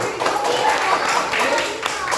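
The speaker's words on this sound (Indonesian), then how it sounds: "Tepuk tangan untuk Adinda Putri." A classroom of primary school pupils claps together for a classmate, a dense run of hand claps filling the room, fairly near and steady throughout.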